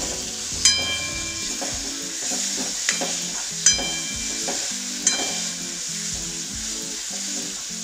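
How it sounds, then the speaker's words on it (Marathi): A dal paratha filling with red chili powder and turmeric sautés in a pan with a steady sizzle, punctuated by several sharp clinks of a spoon against the pan. "आता याला चांगलं परतून घेऊ।"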